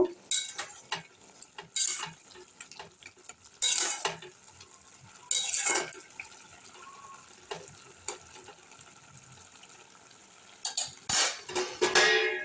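A spoon scrapes and clinks against a pot as a pennywort curry with lentil dumplings is stirred, in short irregular bursts with quiet gaps between them.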